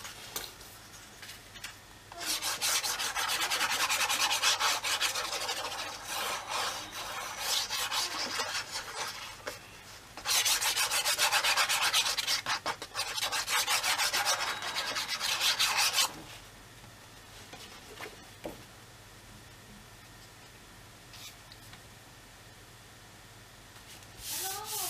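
Paper corners of a handmade Warm Breeze scrapbook album being rounded with a file: two long, steady raspy rubbing bursts, close and fairly loud, separated by a short pause and followed by quiet.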